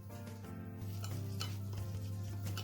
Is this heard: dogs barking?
no